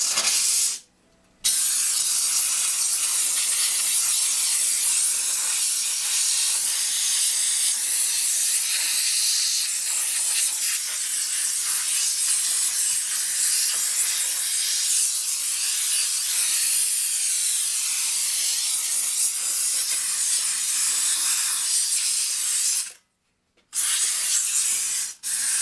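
Steam cleaner blasting dirt off new wheels, a loud steady hissing spray that runs for over twenty seconds, with short breaks near the start and end.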